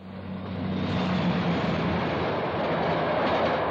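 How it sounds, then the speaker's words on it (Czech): A train running steadily, with a continuous rumbling roar and faint rhythmic clatter of wheels on track, loud and close, with no voices. "Vlak jede."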